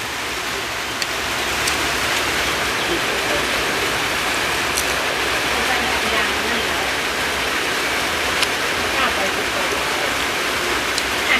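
Steady, dense rain hissing continuously at close range, with occasional brighter drips or ticks standing out from the wash.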